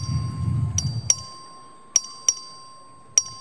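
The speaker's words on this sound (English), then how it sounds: "The clerk will ring the bell." A clerk's voting bell in a state legislative chamber rings five sharp, bright single strikes at uneven intervals, each ringing out and decaying, following a brief stretch of low murmuring room noise.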